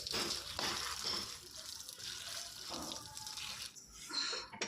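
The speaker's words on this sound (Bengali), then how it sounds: "সবগুলো এঁচড় আমাদের কাটা হয়ে গেছে, এবার আমরা ধুয়ে নিচ্ছি।" Cut pieces of young jackfruit are rinsed in water, with soft splashing, sloshing and dripping sounds at close range, fairly quiet with brief pauses between handfuls.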